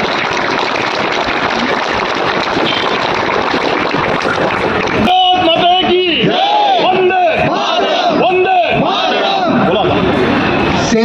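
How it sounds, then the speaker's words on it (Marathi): A crowd at a Sindoor Sanmaan Yatra rally against terrorism roars and cheers loudly and continuously, with shouting voices rising over a dense, constant wash of crowd noise. "त्यांच्यासाठी एकदा टाळ्या होऊ द्या."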